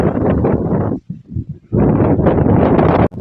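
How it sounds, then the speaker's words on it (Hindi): Strong wind by the sea in Jeddah buffets the microphone in loud, roaring gusts, dropping briefly to quieter rustling before surging again, with no talk. "आज माशाल्लाह बहुत हवा चल रही है"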